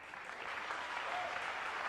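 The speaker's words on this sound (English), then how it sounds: "they were applauding the combination and the fact that the other ball went in as well" Audience applause at a snooker final breaks out as a steady, dense clapping. It runs for the whole short stretch at an even level, with no voices above it.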